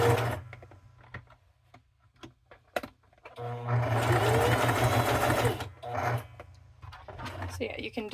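A sewing machine stitches fabric for appliqué, starting and stopping in short bursts with clicks between as the presser foot is lifted and the piece rotated, then running in a longer steady whir, close and clear.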